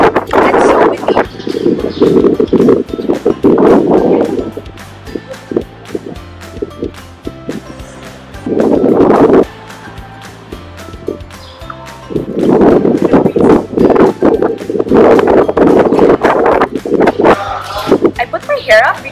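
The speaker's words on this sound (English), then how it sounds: "It's so windy." Heavy gusts buffet the microphone in loud rumbling bursts, with people talking and faint clatter in between.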